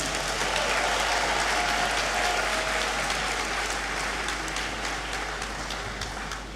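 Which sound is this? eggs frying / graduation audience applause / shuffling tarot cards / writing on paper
graduation audience applause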